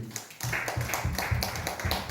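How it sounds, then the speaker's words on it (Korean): A church congregation claps together in thanks to God at the close of a sermon, a dense burst of rhythmic hand claps that comes in pulsing waves, fairly close and steady with no voices over it. "하나님께 감사의 박수."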